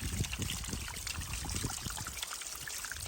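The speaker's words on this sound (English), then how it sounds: "That's a spring getting filtered" Spring water trickling out of rock through a filter, a soft, close, continuous dribble with small irregular splashes and gurgles, faint and steady throughout.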